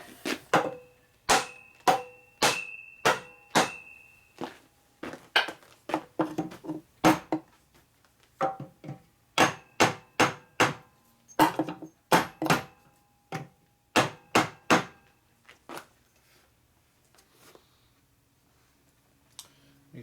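Repeated sharp hammer blows strike a Dayton 240V 7-1/2 hp air compressor motor to drive it out, irregular bursts of metallic hits with short pauses between groups, close and loud.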